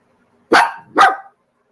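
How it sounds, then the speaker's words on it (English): A dog barks twice at the door, two loud, close, sharp barks in quick succession against silence. "No, you're not going to go bark at the door."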